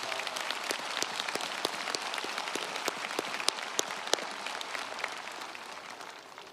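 Steady applause from a college commencement audience, dense and sustained with scattered sharper claps standing out, holding level for several seconds before easing slightly at the end.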